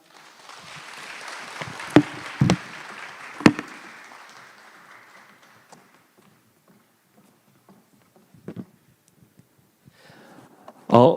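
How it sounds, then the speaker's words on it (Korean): Applause from a congregation at a church family-school lecture, a dense wash of clapping that starts fairly loud, thins out and dies away over several seconds, with a few sharp isolated claps and brief knocks afterward. "우리 다시 한번 큰 박수로 격려하도록 하겠습니다."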